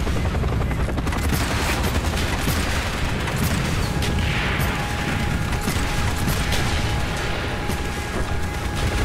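Helicopter in the video game Call of Duty Black Ops, a dense, loud rotor chop under constant mechanical clatter and bursts of gunfire, filling the whole stretch without letup.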